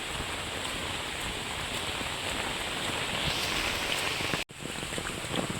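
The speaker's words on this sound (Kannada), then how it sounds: "ಸಿಕ್ಕಾಪಟ್ಟೆ ಮಳೆ ಆಗ್ತಿದೆ." Heavy rain pours steadily in a broadband hiss during a days-long monsoon downpour, close and continuous with no voices, broken by one abrupt dropout near the end before resuming.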